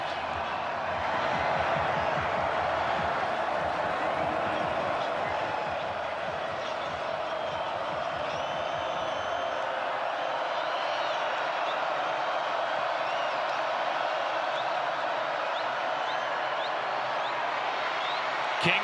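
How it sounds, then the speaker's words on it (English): Crowd at a college football game, Georgia Tech at NC State, on a third-and-long late in the fourth quarter: a steady, distant roar fills the stadium beneath a commentator's continuous talk. "And this crowd is into it."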